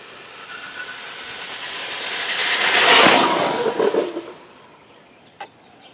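A Traxxas Stampede 4x4 RC truck with a 2200kv Castle motor on 3S does a full-speed run, its whining motor swelling as it approaches, peaking, then fading away, followed by a sharp click.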